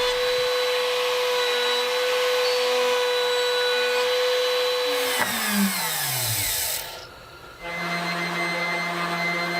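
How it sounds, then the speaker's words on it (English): A router on a router table rounds over the edge of a wooden peg game board, giving a loud steady high whine that bites into the wood midway, then winds down and gives way to a lower hum. "I'll just use my router table to put a small round over around the edge."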